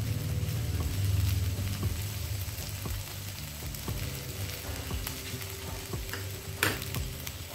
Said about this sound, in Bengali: উল্টে পাল্টে আস্তে আস্তে ভেজে নিতে হবে।